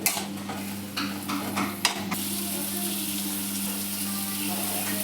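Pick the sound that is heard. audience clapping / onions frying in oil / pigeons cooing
onions frying in oil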